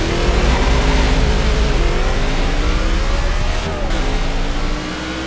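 A NASCAR race car engine in NASCAR 15 at Las Vegas drones loud and close at high revs, its pitch climbing and shifting through the gears, with a brief dip near the end.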